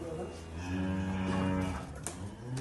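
Cows at a dairy farm give a long, close, drawn-out moo, with a second lowing call starting just after amid barn background noise.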